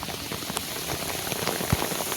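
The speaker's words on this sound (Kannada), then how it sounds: "ಸೊ ಗೈಸ್ ಮಳೆ ಬಿಡ್ತಿಲ್ಲ" Steady monsoon rain pours down at a riverside fishing spot, a dense, even patter with scattered louder drops and no voices.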